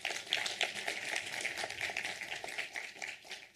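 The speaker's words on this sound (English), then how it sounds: "a round of applause once again to you" An auditorium audience at a science pitch competition in Pretoria bursts into sustained applause, a dense, steady patter of many hands clapping throughout, moderately loud, with no talking.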